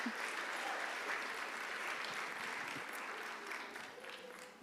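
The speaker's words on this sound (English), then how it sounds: "Big, big round of applause for Sylvie and Angela and Kathy and the staff." Applause from an evening event audience honouring organizers and staff, a steady crowd of clapping heard at a distance, fairly faint, tapering slightly toward the end.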